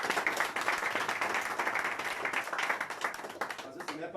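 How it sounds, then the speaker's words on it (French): An audience claps for a visiting delegation at a public gathering in Sangmélima, a busy, fairly loud patter of many hands that runs steadily and tapers slightly at the end. "on applaudit pour notre délégation"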